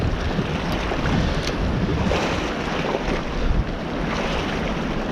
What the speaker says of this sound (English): that wind is literally whipping right across me, and it's a lot stronger than I thought it was going to be